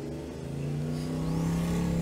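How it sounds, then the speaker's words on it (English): Motorcycle engine heard through open windows, a loud steady drone with a rising whine as it passes close by, no voices. "Loud motorcycles are loud with the windows open."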